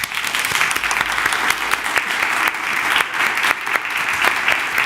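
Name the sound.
applause from a congregation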